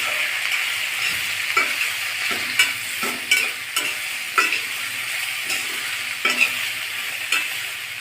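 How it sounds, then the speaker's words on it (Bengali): Green beans stirred with salt and half a spoon of turmeric in a pan, a steady close sizzle broken by repeated scraping strokes of a spatula at an uneven rhythm. "লবণ হলুদটা সিমের সাথে ভালোভাবে মিশিয়ে নিব।"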